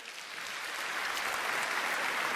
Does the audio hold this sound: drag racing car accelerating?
no